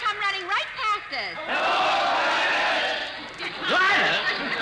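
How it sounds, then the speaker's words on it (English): A football crowd at the Rose Bowl game roars in a loud, dense surge through the middle, with voices talking just before and after. "listen to that crowd"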